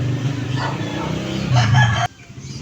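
A two-year-old White Hatch gamecock rooster crows loudly and close, one long call rising in strength before cutting off sharply, with steady background noise behind it.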